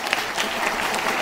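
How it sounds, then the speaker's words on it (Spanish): Brief burst of church congregation applause fills the space evenly, a dense wash of clapping at moderate level with no voices over it. "Que ya un aplauso"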